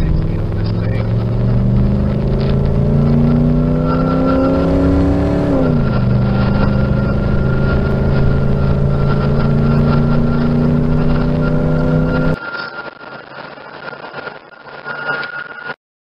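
A lifted Econoline van on 285 tires with no re-gear accelerates hard. The loud engine drone climbs steadily, dips at a gear change, and keeps rising before cutting off abruptly near the end.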